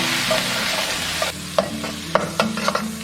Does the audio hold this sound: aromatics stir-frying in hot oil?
yes